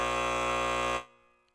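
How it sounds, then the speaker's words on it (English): A loud, harsh electronic buzzer sounds steadily for about a second, then cuts off abruptly into near silence. "giving Unc the buzzer this many times in a row"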